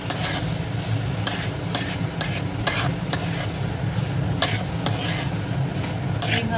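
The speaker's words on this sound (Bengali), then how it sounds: "দিয়ে ভালোভাবে ছোলের সাথে এই মশলাটাকে মিশিয়ে নেব।" A spoon stirs chickpeas (chole) with spice masala in a hot pan for Amritsari chole, giving repeated scraping clacks at an uneven rhythm over a steady sizzle of frying.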